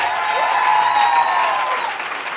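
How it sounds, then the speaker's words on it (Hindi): An audience applauds steadily for a line of leaders at an organisation's gathering, the dense clapping sustained throughout with a faint tone gliding along beneath it. "तमाम लीडर्स के लिए जोरदार तालियां बजाएंगे"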